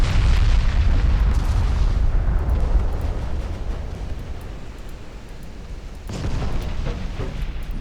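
Torpedo hits and naval explosions in Ultimate Admiral Dreadnoughts rumble as a heavy low boom that decays slowly, followed by a second deep burst near the end, loud and alone.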